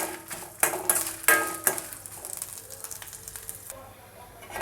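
Black urad dal, tamarind, pepper, cumin and fenugreek dry-roasting in a pan, with several sharp clinks of a spatula against metal and a soft rustling stir between them, fairly close.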